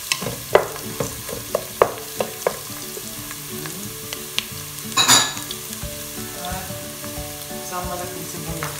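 A whole head of garlic sizzles and fries steadily in a pan for making shrimp paste, with scattered sharp pops and crackles and a louder burst of spattering midway.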